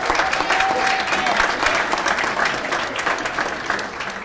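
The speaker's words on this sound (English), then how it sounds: "Have a nice round of applause for all these great junior bowlers." Audience at a bowling hall of fame induction dinner applauds junior bowlers, a dense, steady clapping that fills the room for several seconds, with a faint murmur of voices underneath.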